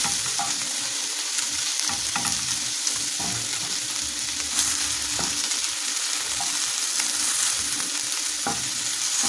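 Bacon frying in its own rendered fat without oil makes a dense, steady crackling sizzle, close and fairly loud throughout, with faint scraping stirs and no speech.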